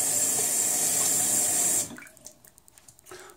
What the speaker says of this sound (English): Hold on, let me rinse.